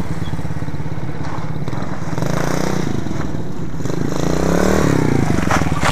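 An Irbis Virago 110 moped rides past, its small single-cylinder engine buzzing loudly and close with a rising and falling pitch as it goes by, mechanical clatter mixed in.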